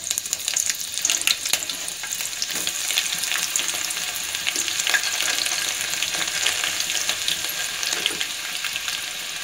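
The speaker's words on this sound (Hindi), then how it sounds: "तो पहले जाएगी राय, हाँ उसके बाद मैं ऑनियन डाल देती हूँ।" Onions and mustard seeds sizzling steadily in hot oil for drumstick dal, a continuous close crackle with occasional stirring and clinks throughout, no talking.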